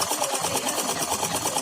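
A sewing machine runs continuously while stitching a churidar pajama, a loud, steady, close whirring with a fast, even pulse of the needle and no pauses.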